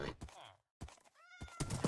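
A gray horse in Minecraft Bedrock whinnies in a short rising-and-falling neigh between soft thuds and bits of background noise, with a voice nearby.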